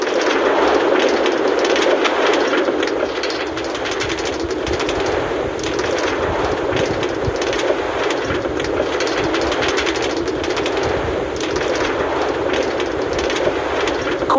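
MRT-3 train running in Minecraft, a steady loud rumbling rail noise with rhythmic clattering throughout, no voices.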